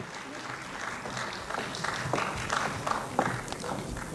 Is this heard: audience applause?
yes